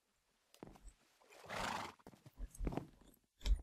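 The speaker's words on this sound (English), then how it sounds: "Don't neigh at me." A Minecraft horse whinnies in a short, bright neigh midway through, set among scattered game clicks and soft hoof clops; sounds are close and fairly faint overall, with no talking.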